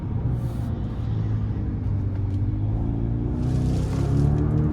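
A 2024 Genesis GV80 2.5T in sport mode, its engine heard from inside the cabin as a loud, steady low drone that rises slightly in pitch under hard acceleration, over road rumble.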